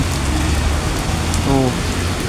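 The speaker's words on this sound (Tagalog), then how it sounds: "grabe ka kusog sa ulan" Heavy rain pours down in Cagayan de Oro City, a dense, continuous hiss of drops on surfaces, with a brief faint tonal sound near the middle and a low rumble of passing traffic beneath.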